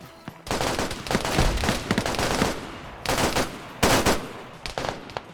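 Video game shootout with sniping from a hill, near-continuous loud volleys of rapid gunfire with brief pauses between bursts, dense and close.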